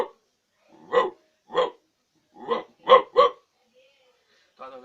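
A man imitates a dog barking with his voice, giving six short sharp woofs in an uneven rhythm, close and clear against silence.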